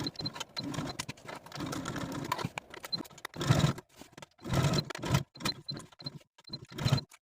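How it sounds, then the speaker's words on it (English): Sewing machine stitching through all layers of an interfaced collar stand with a half-inch seam allowance, heard up close in repeated short bursts of fast mechanical whirring separated by brief pauses. "Now we're going to sew through all layers with a 1/2 inch seam allowance"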